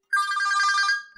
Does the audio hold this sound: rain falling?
no